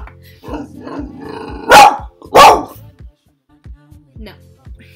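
A dog growls low and then lets out two loud, close barks, followed by quieter grumbling; a voice also seems to sound in the background.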